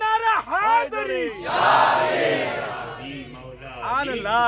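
A large crowd at a religious gathering in Gujarat answers a leader's call with a loud, massed roar of shouted slogans, with the lead voice chanting before and after the swell.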